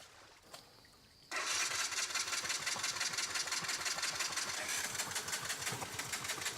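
A BMW GS motorcycle engine starts and settles into a loud, steady running note, close to the listener, with a fast pulsing rhythm from the exhaust as water is blown out of the pipe.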